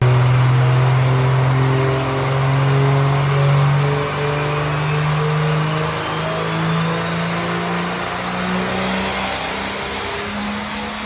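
A 4000 HP Cummins diesel truck engine roars steadily under heavy load on a dyno, with a deep droning pitch that holds, then eases slightly toward the end.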